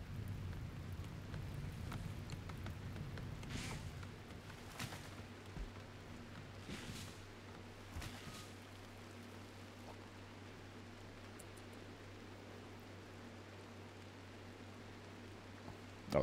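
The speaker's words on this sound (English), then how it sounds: "Oh, it's raining now." Steady rain hiss in the video game RimWorld with a low rumble underneath, a few soft thunder-like swells early on, then a constant even downpour.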